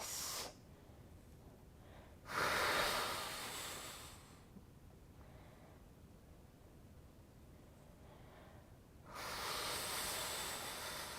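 Slow, controlled breaths during a core reset exercise, a long airy exhale followed by a quieter inhale and another breath, soft and close with steady hiss between.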